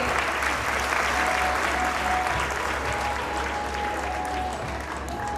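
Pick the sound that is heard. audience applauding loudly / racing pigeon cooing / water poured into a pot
audience applauding loudly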